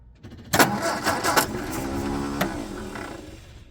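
A 1967 MGB GT, which has a small fuel leak, cranks and fires up close by, then settles into a steady running idle. The engine note is loud, with a couple of revving bursts early on.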